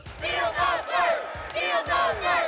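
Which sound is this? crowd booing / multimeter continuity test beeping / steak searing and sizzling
crowd booing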